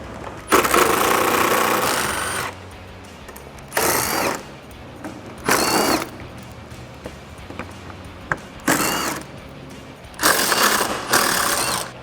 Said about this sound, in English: I'm gonna use an extension and a 10mm socket.